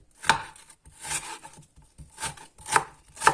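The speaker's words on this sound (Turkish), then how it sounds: "Soğanlarımızı ince ince doğrayalım." Knife chopping onions into half-moon slices on a cutting board in irregular bursts, sharp close taps spaced out over a few seconds, with no one speaking.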